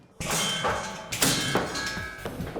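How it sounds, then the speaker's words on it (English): A hammer with a cracked, weakened head is struck and the head breaks off, giving several sharp metallic clangs and ringing dings mixed with dull thuds, close and distinct. "That hammer's lost its head, but still, no explosive shattering."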